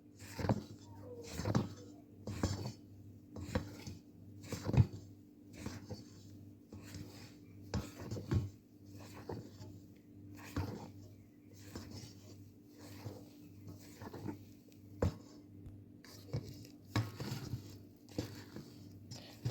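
Flour and melted butter are folded gently into donut batter, heard as faint, regular scraping strokes and soft clinks about once a second in a quiet room.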